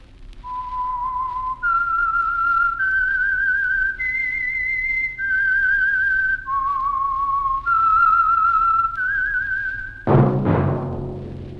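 A clear whistled melody of sustained, wavering notes stepping up and down, the theme of the radio mystery program The Whistler, ending with a sudden sharp noisy burst.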